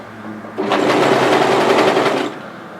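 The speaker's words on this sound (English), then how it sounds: "So overlock across, and there's a notch to match in the center." An overlocker stitches across a hoodie seam in one steady, loud, fast-whirring run of nearly two seconds, starting and stopping abruptly, close up with no talk.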